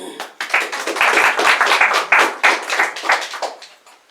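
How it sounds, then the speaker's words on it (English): A small audience claps at a Vedanta talk, a few seconds of uneven, fairly close hand claps that thin out and stop. "You can give a clap."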